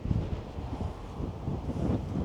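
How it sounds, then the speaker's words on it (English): Steady, rumbling wind buffets the microphone throughout, a low roaring gust noise with no voices. "it is quite windy"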